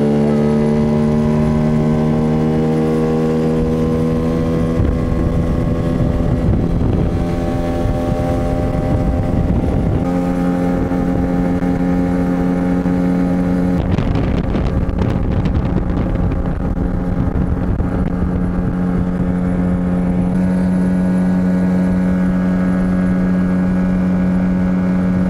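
A Tohatsu 9.8 outboard motor drives a small boat at steady high revs, a loud continuous droning whine with harsh wind buffeting the microphone and slight pitch shifts as the engine speed changes.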